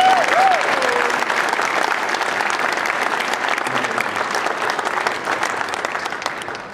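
An audience at a Hall of Fame induction in San Jose applauds a 1987 girls volleyball team, with steady, dense clapping filling the room and slowly fading, and a few faint whistles at the start.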